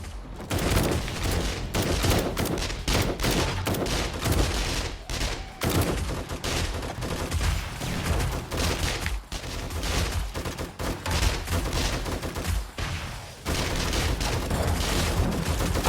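Defensive turrets firing nonstop at a zombie horde in 7 Days to Die, a dense rapid fusillade of gunshots, loud and continuous.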